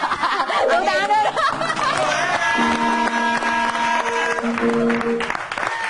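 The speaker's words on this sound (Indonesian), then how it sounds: "Tepuk tangan dulu." Studio audience on an Indonesian TV talk show applauding amid crowd chatter and laughter, with music-like tones layered over the clapping throughout.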